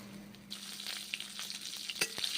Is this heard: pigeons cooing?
no